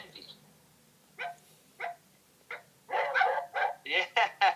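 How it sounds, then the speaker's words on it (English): Three dogs bark and yip indoors in a series of short bursts, sparse at first and then a rapid, overlapping cluster of loud barks near the end. "Get some help from the dogs. The dogs are all chiming in. All 3 of them."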